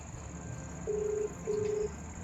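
A phone call's ringback tone sounds as two short, even electronic beeps with a brief gap between them, fairly quiet over a steady low background hum.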